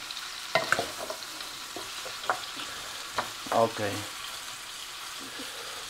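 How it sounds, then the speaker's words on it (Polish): Vegetables for a lentil goulash sizzling steadily in a pan, with scattered clicks and scrapes of stirring and a brief spoken word partway through. "No i smażymy. Smażą się same warzywa."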